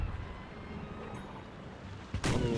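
Ship cannons fire in a Napoleon Total War naval battle, with low rumbling booms in the background and a sharp, loud blast near the end over a bed of sea and ship noise.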